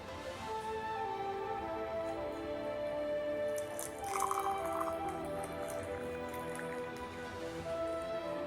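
Hot water trickles and drips over a tea bag for herbal tea, a quiet wet pouring with soft splashes and drips that swell briefly midway, close and without speech.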